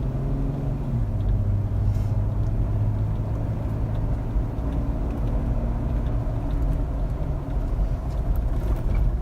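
Jeep JK engine fitted with a Ripp cold air intake, idling and revving with a loud, steady low rumble that shifts pitch near the start, close and continuous, no voices.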